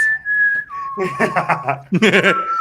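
Whistling from a football fan forum audience, a sustained high whistle sliding in pitch that gives way to several overlapping whistles mixed with chuckles and laughter, close and fairly loud.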